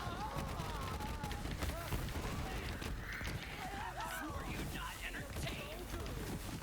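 Gunfire and explosions in Borderlands 3 combat form a loud, dense, continuous barrage of cracks and blasts with no pause across the whole stretch.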